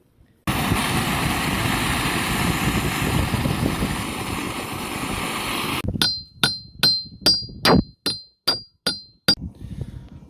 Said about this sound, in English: after beating and heating with butane for hours and hours and just smashing it with a hammer